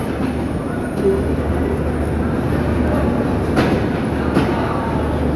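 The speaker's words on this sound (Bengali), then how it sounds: "এই যে ট্রেনটির শেষ বগি আসছে" A passenger express train rumbles past steadily and close by at a station, a continuous heavy roar with faint clatter and a brief squeal, under busy background noise.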